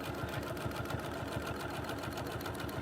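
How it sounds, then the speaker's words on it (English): Domestic sewing machine free-motion quilting in manual mode without a stitch regulator, a fast steady mechanical chatter of stitches running close and continuous, without talk. "Now I'm quilting like you quilt on a domestic machine in manual mode."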